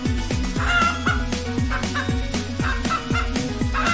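A chicken clucks in a steady, repeated rhythm of short, close, loud clucks that run throughout without pause, with no speech over them.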